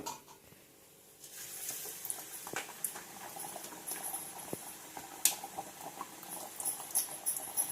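A small test drop of corn vada batter goes into hot oil, starting a steady, faint bubbling crackle with scattered pops after about a second of quiet.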